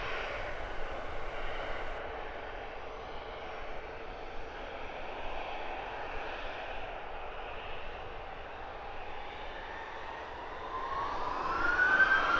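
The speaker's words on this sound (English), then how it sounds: "EasyJet off to Geneva" An EasyJet jet airliner roars steadily on departure from Luton Airport toward Geneva, a sustained broad engine rumble that swells louder near the end.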